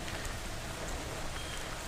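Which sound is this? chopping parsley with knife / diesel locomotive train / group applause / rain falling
rain falling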